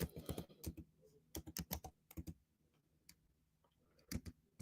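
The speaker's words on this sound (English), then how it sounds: "I'll type it in for you and I'll put it on the screen." Bursts of computer keyboard typing, clustered keystrokes in quick runs separated by short pauses, close and fairly quiet, with a faint ticking background.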